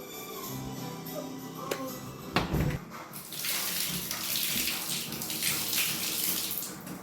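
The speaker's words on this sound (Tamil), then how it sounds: "இப்போ நம்ம மூஞ்சி கழுவ போகிறோம்." Tap water pours steadily into a bathroom sink while someone washes their face after removing a face mask. A few soft knocks come first, then a continuous close rush of water fills the rest.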